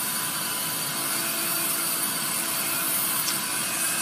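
A Dremel rotary tool with a sanding drum on an 1/8 inch shank carves basswood, giving a steady high-pitched whirring grind that stays constant and close throughout.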